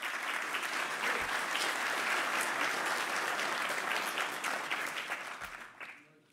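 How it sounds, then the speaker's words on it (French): Sustained audience applause at a French army citizen reserve conference, dense even clapping from a large room that holds steady and then tapers off and fades out near the end, with no talk over it. "Et je vous demande aussi de les applaudir."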